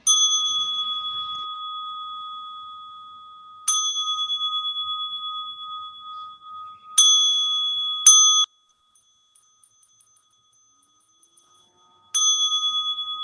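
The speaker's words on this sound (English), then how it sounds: "I could ring a bell to just finish" A bell rung to close a Zen Dharma talk gives five clear, ringing strikes. Each tone sustains and slowly decays, with two strikes close together near the middle and quiet gaps between the others.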